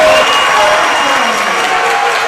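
Home basketball crowd at a men's college tournament semifinal roars with sustained cheering and applause after a steal leads to a layup, a loud continuous wash of voices filling the gym.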